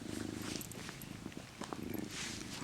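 A cat purrs up close during a soft-spoken magazine flip, a steady low rumbling purr that runs continuously and fairly loud, with light paper rustles over it.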